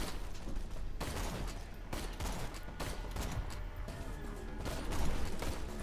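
Rapid gunfire from the shooter video game Borderlands 2, with dense bursts of automatic shots and impacts repeating through the stretch and getting louder near the end.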